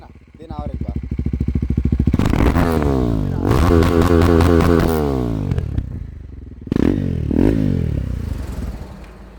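A KTM Duke 390 motorcycle's exhaust is revved in several sharp bursts, the engine snarling up and dropping back to idle between blips, loud and close, with voices talking alongside.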